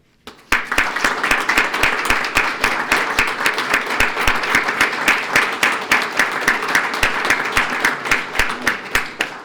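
An audience at a police swearing-in ceremony breaks into sustained applause, with many hands clapping steadily for several seconds after a quiet start, loud and close.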